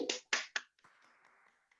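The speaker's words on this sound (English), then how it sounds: "I'm clapping to myself because I can't hear anybody" One person clapping alone during an online improv comedy show: three quick, sharp claps close to the microphone, followed by a faint tail of softer sound.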